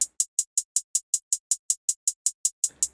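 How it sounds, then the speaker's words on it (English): Crisp electronic hi-hat loop ticking in an even, fast sixteen-step rhythm, bright and dry, ending with a short noisy open tail. "Then I have this hi-hat loop"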